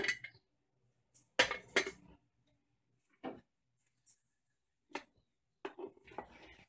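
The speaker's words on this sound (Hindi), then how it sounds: "अब हम कुकर का ढक्कन को खोल लेंगे।" Metal clanks and clicks from handling a pressure cooker lid after cooking mutton tahri, a series of sharp, close knocks and scrapes separated by quiet gaps, no talking.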